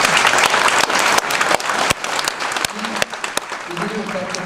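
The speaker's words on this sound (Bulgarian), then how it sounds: "отново аплодисменти." Lively applause from a conference audience at an SEO talk, loud and close with distinct sharp individual claps standing out, gradually thinning while voices start to murmur underneath.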